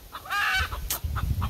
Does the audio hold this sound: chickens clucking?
yes